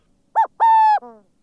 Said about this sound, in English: Look, up there, a bird.